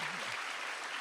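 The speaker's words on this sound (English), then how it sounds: "And then a round of applause for the PM." A brief burst of audience applause for the Prime Minister at a question-and-answer dialogue, many hands clapping evenly in a hall for about a second.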